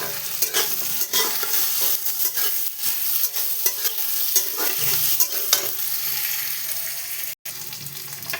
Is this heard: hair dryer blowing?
no